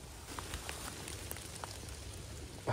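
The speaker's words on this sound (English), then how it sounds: "as the rain comes down" Rain pattering steadily in a wooded area, a soft continuous hiss of drops with scattered louder taps, fairly quiet and even throughout, no talking.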